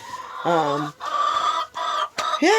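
Several chickens from two merged flocks, young and older birds, cluck in bursts close by, with pauses between the calls and a louder rising squawk near the end.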